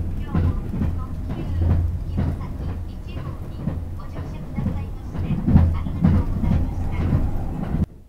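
A 287 series limited express train pulling into Kinosaki Onsen terminus rumbles and clatters over rail joints with low engine drone, heard from inside the carriage under a voice, fading quietly at the end.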